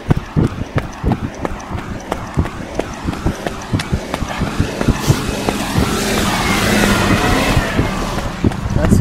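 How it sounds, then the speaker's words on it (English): A local garbage truck rumbles along a narrow country lane at Pound Common, its engine growling steadily and building louder toward the end amid scattered knocks and clatter. "Local garbage truck"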